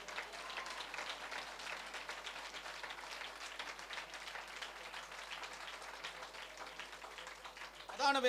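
A church congregation at a healing school conference applauds steadily for several seconds, a dense wash of many hands clapping at even volume that swells slightly at the end.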